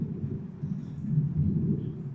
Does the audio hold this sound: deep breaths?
no